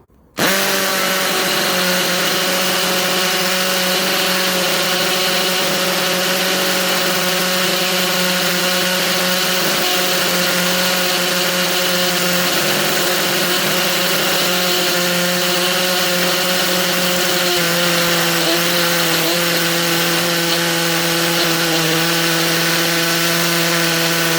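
An Ozito 18V brushless hammer drill bores into a paver, a loud steady whine with a rattling hammering grind that holds almost unchanged from start to finish, no talk.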